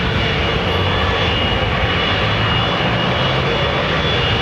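An old airliner's jet engines power up at London Heathrow Airport, a loud, continuous roar that holds steady and dominates the scene with no speech.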